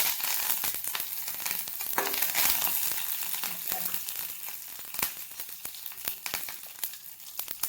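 Mustard seeds and curry leaves hitting hot oil, a loud close crackling sizzle with sharp popping bursts that gradually settles, no talking.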